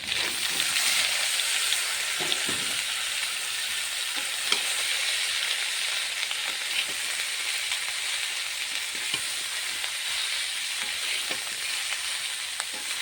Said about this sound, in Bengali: কেটে রাখা বাঁধাকপিটা দিয়ে দেবো